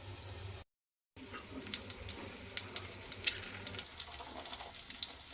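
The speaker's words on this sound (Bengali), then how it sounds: "দিয়ে দিচ্ছি ফোড়নে কাঁচা লঙ্কাটা" Green chili dropping into hot oil for a Bengal-style tempering, a steady crackling sizzle with sharp pops rising over the hiss after a brief silent gap, close and moderately loud.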